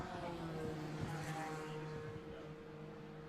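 Race cars pass the start-finish line at Killarney Raceway during a Power Series race, a faint, distant engine drone that swells slightly and fades under steady background noise.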